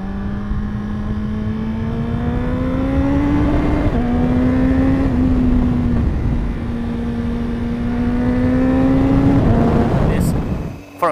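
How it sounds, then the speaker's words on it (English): A 2015 BMW S1000RR motorcycle engine hums steadily at a sustained pitch while riding, recorded from a helmet with constant wind rush, briefly rising and shifting before fading at the end. "I could throw in a bit of camera footage of me riding around on a bike like"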